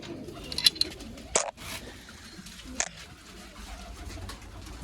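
Pigeons coo softly nearby in a few short, separate bursts over a quiet background, with no voices.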